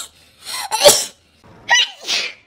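Two separate sneezes, close and loud, each with a sharp inhaled build-up and an explosive burst, with a short silence between them.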